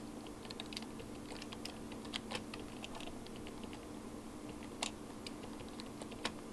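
Password typed on a computer keyboard, a faint run of quick, irregular key taps with a few louder clicks, no talking.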